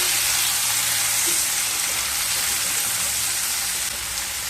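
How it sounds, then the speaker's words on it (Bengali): Garlic and two medium sliced onions fry in hot oil, a dense, steady sizzle that holds close and loud throughout with no talk. "এক চামচ রসুন দুটো মিডিয়াম সাইজের কেটে রাখা পেঁয়াজ দিয়ে খুব ভালোভাবে ভেজে নেব"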